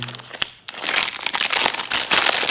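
Loud, close crinkling and rustling of a plastic Lego advent calendar packet being handled, with a brief pause before the crackling resumes steadily.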